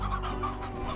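A chicken clucks in the video game Slime Rancher, a faint, brief run of clucks over a low steady hum.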